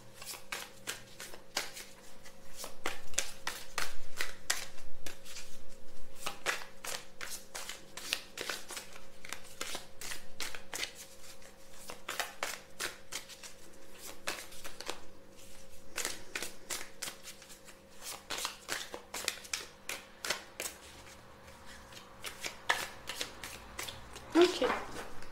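A deck of tarot cards being shuffled and cut, quick riffling clicks and flutters in bursts throughout, fairly faint, over a low steady hum with a voice speaking at times.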